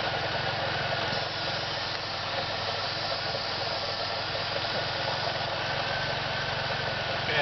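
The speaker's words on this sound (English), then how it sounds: "while this car is idling, if I pull the vacuum line off the regulator, then the pressure should raise" Car engine idling under the hood during a fuel pressure test, with a suspected faulty fuel pressure regulator and the vacuum line pulled off; a steady, even mechanical hum and whir that holds constant and close throughout.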